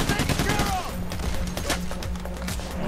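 Rapid SMG fire in the heist shooter Payday: The Heist, dense bursts of close gunshots clustered at the start and then scattered shots, with voices talking over the action.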